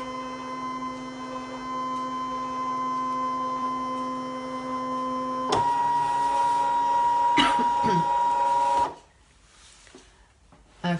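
A Brother ScanNCut cutting machine hums steadily with a tonal motor whine during a background scan, shifting to a busier mechanical sound partway through before dropping to quiet near the end.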